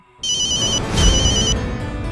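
A telephone rings with a bright electronic trill in two bursts over a low background rumble, close and fairly loud, with no talk.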